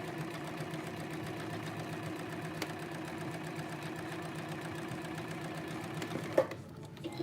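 A sewing machine sewing fabric down, running at a steady close mechanical whir with a fast rhythmic needle chatter before stopping abruptly near the end.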